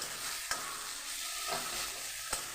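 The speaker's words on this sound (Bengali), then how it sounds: "আর দেবো আমি একটা শুকনো লঙ্কা তো চলুন এটাকে আমি ভেজে নিই" A dried red chilli fries in oil reused from frying fish, alongside onions, giving a faint, steady sizzle punctuated by a few sharp utensil taps against the pan.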